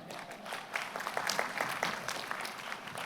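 An audience at a university commencement ceremony applauds, a steady spread of clapping from many hands at moderate distance that swells slightly and holds.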